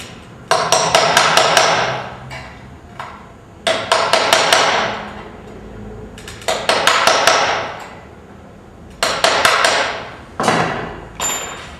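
Sharp metallic hammer taps on a center punch marking ceramic tile, in quick bursts of five or six strikes, repeated in four clusters with short pauses between, close and fairly loud.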